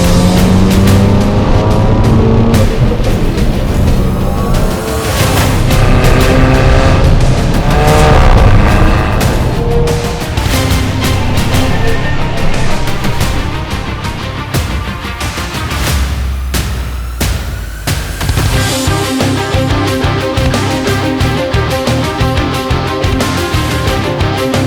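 A tuned 600-horsepower Audi TT on the MQB platform, weighing about 1400 kg, accelerates hard with a loud, close engine roar that rises and falls through repeated gear changes, with occasional tire squeal.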